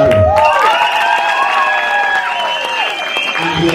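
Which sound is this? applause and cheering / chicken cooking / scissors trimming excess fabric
applause and cheering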